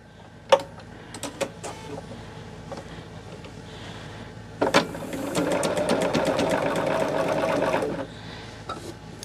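A sewing machine stitches quilt patches together for a disappearing four patch quilt. It runs in one steady buzzing burst of about three seconds, with scattered handling clicks before and after.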